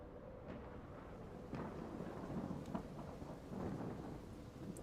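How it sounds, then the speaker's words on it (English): Rain and rumbling thunder in the truck-and-roadbuilding video game Roadcraft: a steady wash of rainfall with deep, rolling thunder swelling underneath, moderately loud and without speech. "Oh good, it's raining again."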